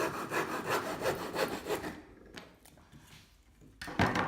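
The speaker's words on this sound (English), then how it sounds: "letting the saw do the work, cut across this way, and this is going to remove sections of your material" Tenon saw cutting across a piece of wood, with steady rhythmic rasping strokes for about two seconds, then a pause with light scraping before a loud stroke resumes near the end.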